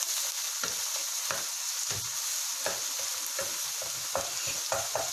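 White parts of spring onions frying over high heat in a pan for Chinese-style fried rice, a steady loud sizzle broken by repeated scraping stirs at an uneven rhythm, with no talking.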